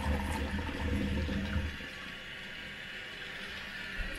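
A Dudley Cascade toilet cistern fitted with a new siphon flushes with a loud rushing gush for over a second, then drains and refills as a quieter steady trickle of running water.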